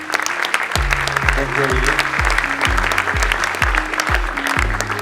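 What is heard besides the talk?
audience applause welcoming a speaker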